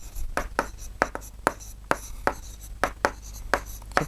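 Chalk or marker strokes of numbers being written on a classroom board during a Class 6 maths lesson on integers, a steady series of about a dozen close scratchy taps and short scrapes, with no voices.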